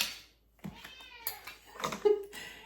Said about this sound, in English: Can you hear her in the background? She is relentless, this cat of mine.